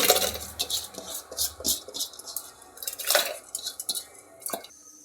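Rice tipped into a pot of salted, oiled boiling water in a home kitchen gives a string of close, sharp clinks and splashy patters, with a brief low rumble at the start and no talk.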